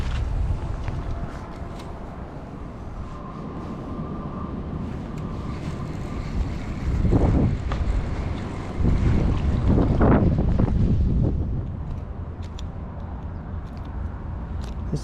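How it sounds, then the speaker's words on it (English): Wind gusts across a lake and buffets the microphone on a small fishing boat, a steady rushing roar that swells into stronger blasts midway before easing, with no talking. "the wind is just making it too difficult"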